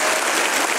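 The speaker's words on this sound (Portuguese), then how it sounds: "Vamos aplaudi-lo." A church congregation breaks into dense, loud applause at a gospel service, a short sustained burst of many hands clapping together.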